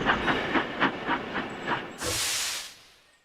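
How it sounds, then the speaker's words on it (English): Cartoon steam locomotive pulling into a station: a run of rhythmic chuffs followed by a loud, sustained burst of hissing steam that fades away, with no voices. "At last, Gordon arrived safely at his final destination just as Thomas chuffed in."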